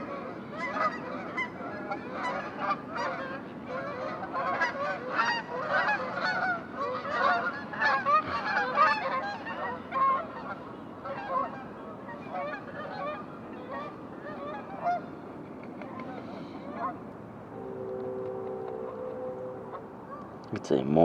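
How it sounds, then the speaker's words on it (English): A large flock of geese flying low over an early-morning ground hide, a dense overlapping chorus of loud honks that continues throughout, with quieter honking near the end. "It's a morning of geese."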